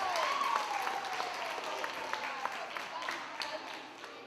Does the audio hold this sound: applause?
yes